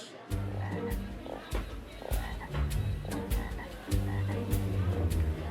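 Several frogs croak in a small tank by a pond, giving a dense, overlapping chorus of low, rhythmic croaks heard close up and continuously.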